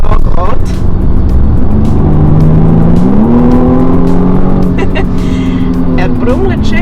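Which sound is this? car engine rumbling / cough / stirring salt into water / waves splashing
car engine rumbling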